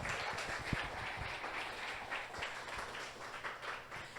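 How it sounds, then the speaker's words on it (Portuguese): A church congregation claps together at a family seminar service, a steady, fairly distant wash of applause running throughout with a few sharper individual claps standing out. "Uma grande salva de palmas para o Senhor."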